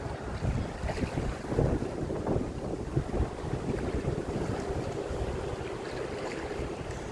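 Strong gusting wind blows along a riverbank, roaring steadily through the whole stretch with heavy buffeting on the microphone and a constant rushing wash, with no one talking.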